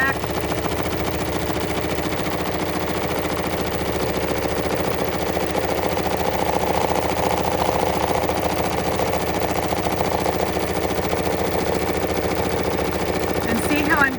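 A BERNINA sewing machine fitted with the adjustable micro-stippling foot #73 runs a satin stitch, making a steady, fast, rhythmic mechanical whir that continues without a break, with a voice talking over it.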